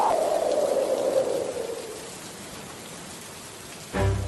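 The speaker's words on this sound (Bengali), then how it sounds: "দেখেছো কেমন ঝড় হচ্ছে, সাথে শিলাবৃষ্টি" Cartoon storm with rain and hail: steady hiss of rainfall with a low whooshing gust fading early on, then a sudden low thud-like burst near the end, no talking.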